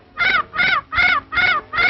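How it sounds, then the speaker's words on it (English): A bird squawks harshly in five loud, evenly spaced calls, close and steady, with no voices over them. "Will you keep that confounded bird quiet?"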